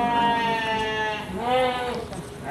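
Garut sheep at the Majalaya sheep market near Bandung give two long wavering bleats, the second rising then falling, loud and close over faint market background.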